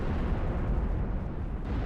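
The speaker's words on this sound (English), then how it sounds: "that Minos cannon absolutely caned something" In the tower defense game Siege of Centauri, a Minos cannon lets out a heavy, booming blast that rumbles on in a dense, low roar, loud and without any talk.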